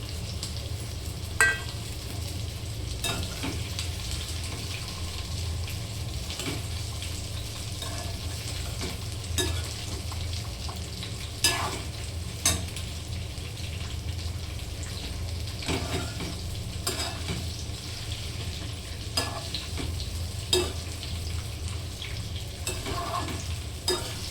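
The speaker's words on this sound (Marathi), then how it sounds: "आपण भेंडी टाकून घेऊयात" Okra (bhindi) is stirred and fried in a pan with browned garlic as a home-style vegetable dish is cooked. A steady close sizzle runs throughout, with scattered scraping clicks from the stirring spoon.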